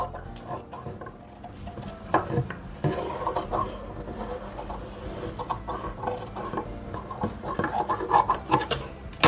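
Scissors cutting through fabric to shape a neckline, with soft rasping, rubbing snips and cloth rustle continuing close up and fairly quiet throughout, no talking.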